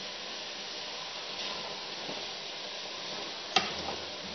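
Onions and eggs fry in oil with a soft, steady sizzle and hiss, fairly quiet and close, with a sharp clink of a utensil near the end.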